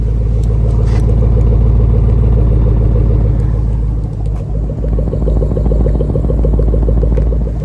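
Two Porsche Cayenne Turbo E Hybrid coupes, 2025 models, idle side by side with their exhaust valves open. They make a steady, deep, rumbling engine drone that stays loud and close throughout, with a slight dip in the low rumble midway.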